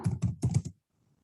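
Typing on a computer keyboard while entering Python print-function code, a quick cluster of about five close, crisp keystrokes in a short burst, then near silence.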